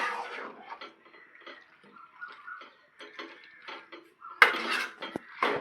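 Chicken pieces are stirred with masala in a metal pan, giving intermittent scraping and clinking of a utensil against the pan, with one sharp louder clatter near the end.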